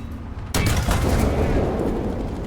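A War Thunder tank cannon fires once beside a T-72. The heavy boom breaks out suddenly and rolls into a long, loud rumble that fades slowly.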